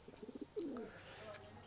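Low, soft pigeon coos from a home flock of Tula pigeons kept for flying, a few short pulses followed by a longer rolling coo, faint and close in a quiet setting.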